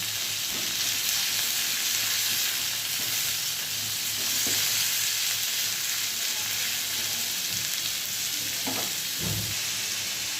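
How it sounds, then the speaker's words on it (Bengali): Chopped onion fries in a pan over medium gas heat, a steady hissing sizzle running throughout with occasional soft scrapes of stirring, close and alone without speech. "গ্যাসের আঁচটা মিডিয়ামে রেখে পেঁয়াজটাকে ভাজা করবো।"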